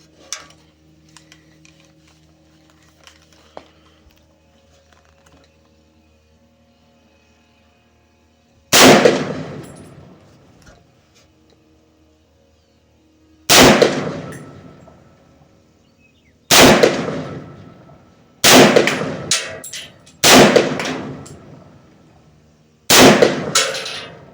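An M1 Garand rifle fires on a shooting range, six loud, sharp shots spaced a few seconds apart, each echoing away into near silence after a quiet start.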